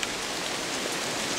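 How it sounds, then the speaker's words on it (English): Steady cold rain falling at Browns Lake near Whitefish Point, Michigan, an even hiss of drops on a surface with no breaks, moderately quiet and close. "It's raining, it's cold."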